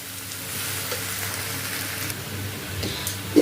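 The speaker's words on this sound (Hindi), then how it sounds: "पाँच मिनट बाद छुहारा भी फ्राई हो गया है। इस तरह से फ्राई करना है।" Dry dates (chhuhara) frying in a pan for raw turmeric halwa give a steady, close crackling sizzle with occasional soft stirring scrapes and a small clink near the end.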